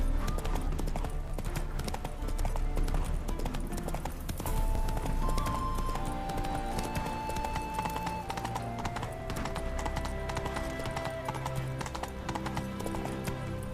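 Roach, the horse in The Witcher 3 video game, gallops with rapid continuous clip-clop hoofbeats over a steady ambient bed, a brief whinny, and a few faint tonal game sounds.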